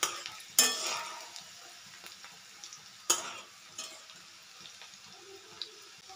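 Ginger, garlic and green chilli stirred in hot oil for a dhaba-style tadka dal, with two sharp scrapes of a spoon against the pan amid a faint, steady sizzle and occasional softer clinks.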